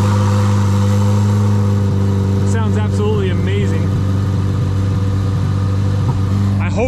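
A 2023 Chevrolet Corvette C8 Z06 engine idles with a steady low rumble, briefly revving higher midway, as people talk nearby.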